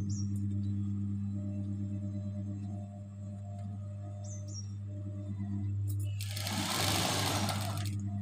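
A sewing machine stitches around a neckline with a steady low motor hum and rapid needle rhythm, close up, ending in a brief burst of louder rattling noise.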